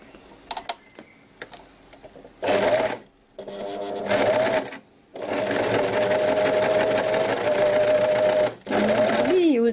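Overlock sewing machine finishing the edge of a rib-knit V-neckline, running in three loud whirring bursts separated by short pauses, with a few faint clicks before the first run and no voices.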